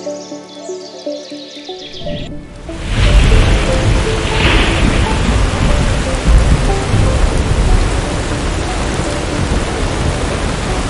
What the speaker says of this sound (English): This mod will make the rain and thunder sounds of the Commonwealth more immersive.